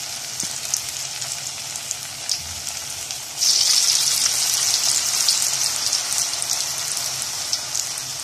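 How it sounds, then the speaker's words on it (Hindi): Potato balls deep frying in oil over a low flame give a steady, close, hissing sizzle that grows louder and denser partway through, with no talking. "हम इनको लो फ्लेम पे फ्राई कर रहे हैं।"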